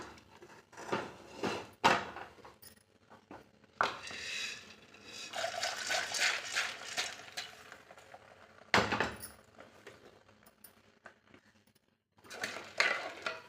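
Clinks of metal utensils against a pressure cooker mixed with splashing and pouring water as ingredients are added, in irregular bursts with quiet gaps between, no talking.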